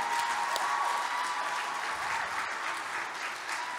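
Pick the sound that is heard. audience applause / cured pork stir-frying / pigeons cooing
audience applause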